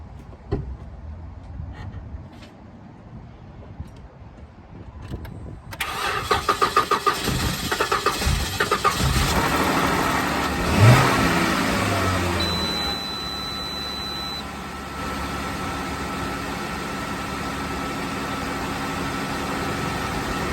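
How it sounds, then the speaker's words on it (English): A car with a dead battery, jump-started with a DeWALT DXA3J14 jump starter, cranks and catches, then runs at a steady, close idle. A small bump follows partway through. "And there it is, car successfully jump started."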